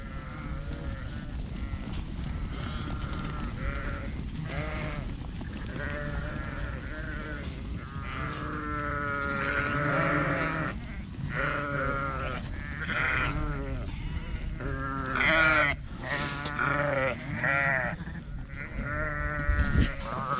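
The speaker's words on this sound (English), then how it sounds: "open the gates and let the ewes out, ready for us to start marking" A flock of ewes being let out through farm gates bleats constantly, many overlapping calls near and far, over a low rumble of wind and engine noise.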